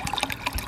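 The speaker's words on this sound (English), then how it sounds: "now all I'm gonna do is pour the rest of this water in there" Water pouring into a gallon water bottle, a brief close splashing, gurgling stream heard on its own.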